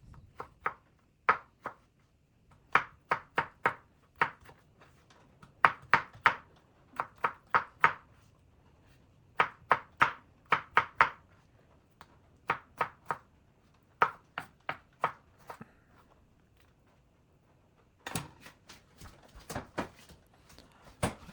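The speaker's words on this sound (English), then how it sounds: "Let's cut into smaller slices." A knife slicing a tomato into smaller pieces on a board for an Indian aloo gobi, with quick bursts of sharp taps separated by short pauses.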